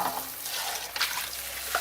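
Tap water runs and trickles while pulp is rinsed out of disassembled juicer parts in a sink, a steady close wash of liquid with small splashes throughout.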